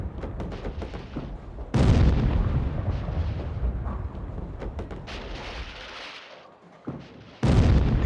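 Explosions boom in Leisure Suit Larry 7, a rumbling, crackling blast that drops off briefly near the end before a second burst erupts.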